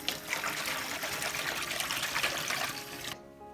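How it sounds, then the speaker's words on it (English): Cool tap water runs into a sink in a steady, close trickling stream that cuts off abruptly near the end. "Let's go over to the sink. Cool water."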